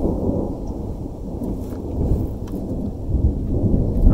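Thunderstorm at Pine Creek in Colorado, a continuous deep rolling rumble of thunder mixed with steady rain hiss, loud and unbroken.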